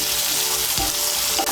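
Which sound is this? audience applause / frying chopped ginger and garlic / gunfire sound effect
frying chopped ginger and garlic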